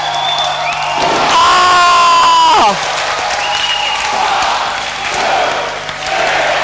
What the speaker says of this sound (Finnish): Ja yleisö on aivan raivona! Yleisö kannustaa!